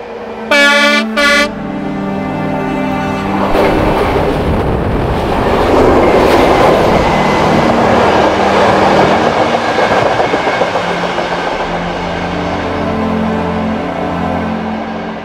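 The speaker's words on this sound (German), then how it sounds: "zumal es hier noch eine richtige Eisenbahn und klassische Lokomotiven gibt" A train pulled by classic locomotives on a Slovak railway opens with a loud two-tone horn blast, then rumbles past at close range with steady wheel clatter and roaring noise that slowly fades.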